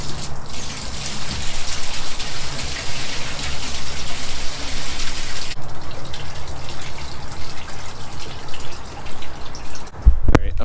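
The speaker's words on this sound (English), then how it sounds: "I'm just gonna pour this one into that one." Liquid seaweed fertilizer is poured from one bucket into another, a continuous loud splashing gush that shifts in tone partway through, then breaks into dripping and a few knocks near the end, with no voices.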